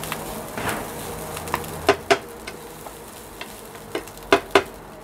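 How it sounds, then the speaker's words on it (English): Fried rice being stir-fried in a pan, with a steady soft sizzle and scraping under a run of sharp clanks and taps from a spatula striking the metal, irregular and close, with no voices. "Now stir fry it again."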